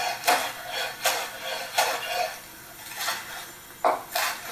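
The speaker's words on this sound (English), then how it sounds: "we're going to chop that first into" A knife chops fresh basil into ribbons, giving about six crisp, separate cuts at an uneven, unhurried pace, close and moderately loud with no talking.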